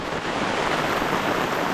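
Heavy rain pours steadily in a forest, a dense, even wash of hiss and patter that holds loud and close throughout with no voices.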